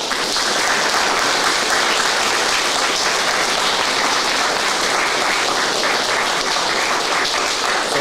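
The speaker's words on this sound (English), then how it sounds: "So I want y'all to acknowledge them and give them a round of applause," A large audience claps steadily through a fire academy graduation ceremony, a dense, continuous roar of applause at close range that holds at an even level the whole time.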